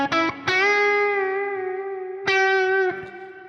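Distorted electric guitar played slowly: two sustained notes, each struck sharply and held with steady harmonics and a slight waver, the second ringing on before a brief final pick, loud and close with no talk.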